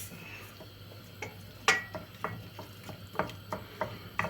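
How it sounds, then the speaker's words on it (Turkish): Onion and pepper being stirred in a pan, with a low steady sizzle under a run of light, irregular scraping and tapping strokes from the utensil. "Bunu hafifçe kavuruyoruz. Soğanı ve biberi."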